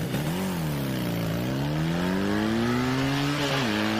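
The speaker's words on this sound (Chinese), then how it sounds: "好像有船的声音" A boat engine in the video game ARK: Survival Evolved drones with a continuous humming motor tone that gently rises and falls in pitch, heard alone and fairly quiet.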